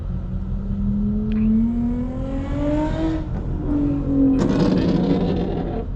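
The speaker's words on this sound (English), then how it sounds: "We're gonna go ahead and drive out a little bit" A rebuilt car pulls away and accelerates. The engine note climbs steadily through a gear, dips at a shift, then surges again in a loud, close rising whine.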